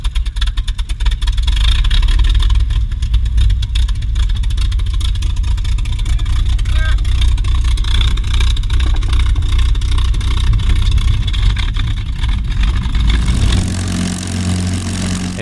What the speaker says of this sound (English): I felt the Merlin engine was a character in this story